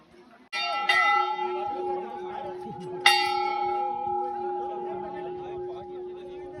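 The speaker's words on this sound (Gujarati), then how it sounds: "3 વાર ઘંટા વગાડવાનો" Two clear temple bell strikes at Mount Abu ring out about two and a half seconds apart, each leaving a long, bright, sustained hum that slowly fades, with faint crowd murmur beneath.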